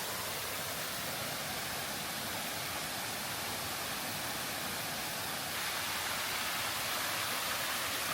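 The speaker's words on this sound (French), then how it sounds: "Cascade vue d'un autre point de vue, d'un autre côté de la cascade." A waterfall in the Jura gives off a steady, full roar of rushing water. The sound stays constant throughout with no other sounds.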